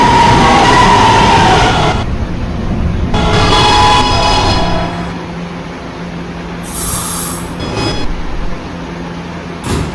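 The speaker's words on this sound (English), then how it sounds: "This is an Expo Center bound B train." An R211A subway train on the B line runs loudly with a broad rumble and rising, falling motor whine, then slows toward a quieter, steadier rolling with brief high squeals near the end.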